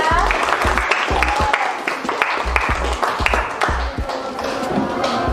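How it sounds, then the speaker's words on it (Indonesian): Classroom applause for a student named Raffi, a steady patter of many hands clapping at close range, with some chatter mixed in. "Boleh kasih tepuk tangan untuk Raffi ya."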